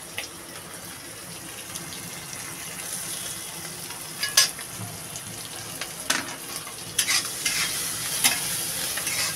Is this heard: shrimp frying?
yes